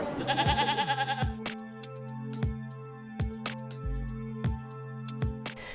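Goats kept by refugee families bleat repeatedly: a long, wavering cry up front, then a run of short, sharp calls at irregular intervals, fairly close and clear with no talking.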